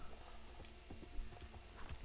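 Horse hooves clip-clop at a steady walking pace in the video game Red Dead Online, close and fairly quiet, with a faint snort partway through.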